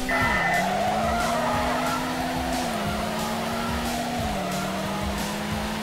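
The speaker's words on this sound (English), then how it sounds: "Dry road, but still spinning the fuck out of my front tires" Front tires of a front-wheel-drive car spinning and squealing on a dry street in the Midnight Club racing game, a sustained tire screech riding over a steady engine drone, with pitch shifts as the car gears up, loud and continuous.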